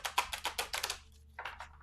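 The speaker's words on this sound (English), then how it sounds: "we're going to give it one more shuffle" A deck of very large, hard, high-quality tarot cards being shuffled, a run of close crisp rapid riffling clicks, then a brief pause before a second shorter burst.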